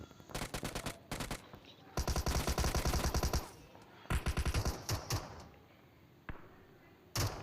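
Bursts of Thompson submachine gun fire in the PUBG Mobile video game, several rapid automatic volleys separated by short pauses, loud and close, with fainter shots between.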